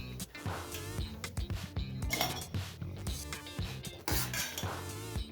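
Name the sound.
soaked lentils poured into mixer grinder jar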